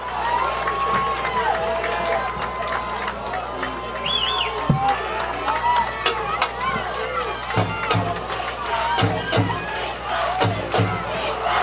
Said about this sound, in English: You hear the crowd.